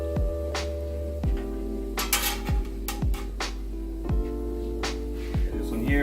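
Tortillas flipped with a metal spatula on a 36-inch Blackstone griddle, several sharp scraping clinks against the steel top at irregular intervals over a steady low sizzle and hum.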